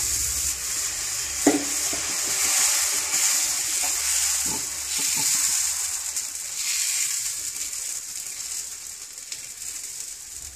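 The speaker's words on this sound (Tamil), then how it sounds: "இப்போ தோசை ஊற்றுறேன்." Dosa batter poured onto a hot pan for masala dosa, a steady close hiss of sizzling that runs throughout with a few soft scrapes, and no one talking.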